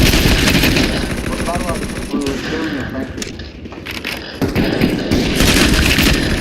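Rapid bursts of automatic gunfire in the video game Counter Strike, mechanical clatter and rattling shots in quick succession with a player talking over them.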